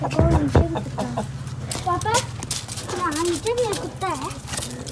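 Hens clucking among pet pigeons at a home, several short bright clucks and calls close by, heard under people talking.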